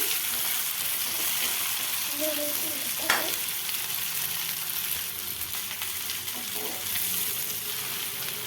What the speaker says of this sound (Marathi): ह्या बघा हळूहळू वांगे चांगली परतून घेते मी